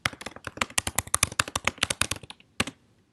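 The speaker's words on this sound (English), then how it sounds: "Today, they are going to be typing their answers here." Rapid keystrokes on a computer keyboard as answers are typed for a classwork assignment, a close, steady run of crisp clicks that stops briefly, then one last key tap follows.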